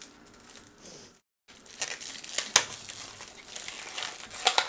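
Crinkly wrapper of a Merci chocolate candy being worked open: irregular close crumpling and crackling with a brief pause, then sharper rustles and small tearing snaps toward the end, with no talking.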